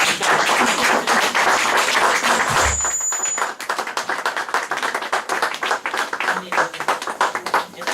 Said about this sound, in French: Est-ce qu'on peut s'acclamer nous-mêmes?